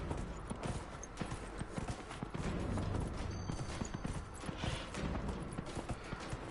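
Horse hooves clip-clop steadily at a gallop in Dragon Age: Inquisition, a loud continuous rhythmic drumming over game ambience with no talk.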